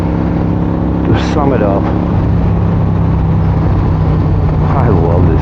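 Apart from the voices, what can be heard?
1986 Harley-Davidson FLTC Tour Glide motorcycle engine running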